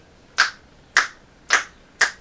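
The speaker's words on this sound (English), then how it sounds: "snap my fingers" Four close finger snaps follow each other quickly and evenly, each a bright, sharp click in a quiet room, with no voices.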